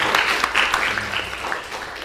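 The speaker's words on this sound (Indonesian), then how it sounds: "kasih aplaus dulu buat teman-teman" Applause for classmates in an Indonesian school classroom, a steady burst of clapping lasting about two seconds with a few voices mixed in.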